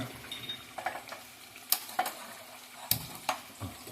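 Chicken pieces fry dry in a pan with a faint, steady sizzle, broken by a few sharp clinks and scrapes of a spoon stirring against the metal, fairly quiet and without any voices.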